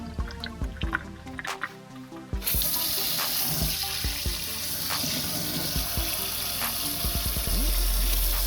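Water gushes from the tap of a drinking water tank in a camper van, starting with a few clicks and trickles, then running as a strong, steady splashing flow that builds toward the end.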